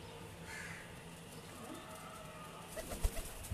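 Pigeons being readied for a flying contest give soft coos and calls close by, followed by a few brief louder flutters or thumps near the end.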